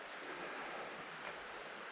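A loud creek flows in the distance beside a trout-fishing campsite, giving a steady, broad rushing wash. Faint and continuous, with no voices.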